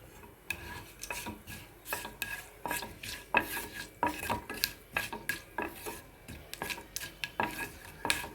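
Tempering spices fry in a pan for a raw banana yogurt chutney, with a soft sizzle under repeated clinks and scrapes of a spoon stirring against metal in an irregular rhythm. Nothing else intrudes.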